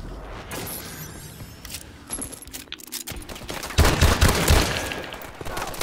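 M1 rifle shots in a shooter video game, sharp irregular cracks scattered through busy game noise, thickening into a dense burst of overlapping fire near the end.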